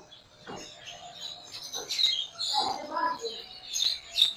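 Pet TCB birds in a breeding cage, with a violet TCB male and a blue TCB female, chirping in short bursts through the clip at moderate volume.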